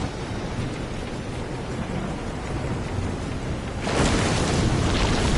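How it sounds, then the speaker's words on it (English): Heavy rain hisses steadily during a storm at sea in the video game Mana 2, swelling suddenly louder near the end as a stronger gust of rain and rumble sweeps in, with no talking. "This is some storm. Careful of the swell of the waves."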